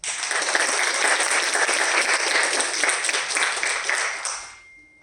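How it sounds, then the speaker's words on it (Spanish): A symposium audience breaks into sustained applause, a dense wash of many clapping hands that holds steady for about four seconds and then fades quickly away. "Recibimos con un fuerte aplauso y agradecemos de antemano su valiosa participación"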